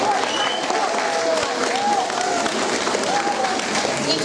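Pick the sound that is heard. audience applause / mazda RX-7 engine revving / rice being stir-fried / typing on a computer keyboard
audience applause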